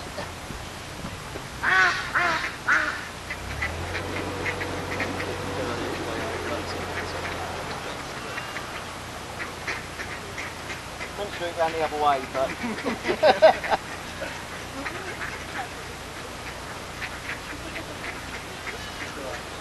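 Ducks quack in loud flurries, some close by, while people talk over them.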